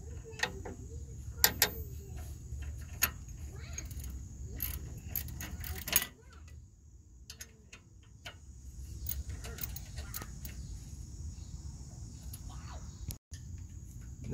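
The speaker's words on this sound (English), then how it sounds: "So we're gonna go ahead and tighten up this second bolt." A wrench tightens a rear brake caliper bolt on a 2002-2010 Ford Explorer, giving a string of small, close metallic ticks and clicks in irregular bursts over a low background hum, without speech.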